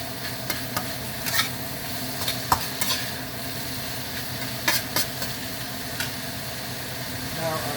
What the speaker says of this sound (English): you're still frying the chicken